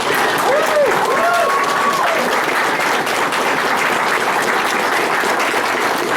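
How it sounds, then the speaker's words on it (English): A crowd applauds steadily with dense clapping that holds at a constant level, a few brief voices rising over it near the start. "Welcome them in with a nice Bangor round of applause."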